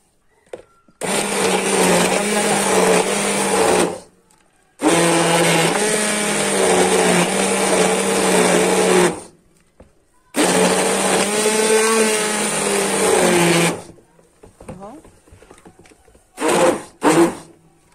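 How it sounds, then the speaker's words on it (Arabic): A hand blender whirs in three long, loud bursts with short pauses between them as it purées hot lentil soup in a bowl, followed by a couple of brief final pulses. "انا هنا فضيته في طبق عشان اعرف اضربه بالهاند بريندر كويس اهو"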